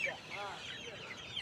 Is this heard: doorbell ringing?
no